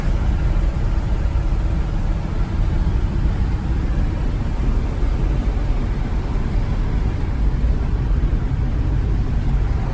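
A 1953 Mercury Monterey shoebox with a swapped Ranger rear axle and 3.45 gears cruises in overdrive at about 50, giving a constant, loud wash of road and engine drone with no pauses.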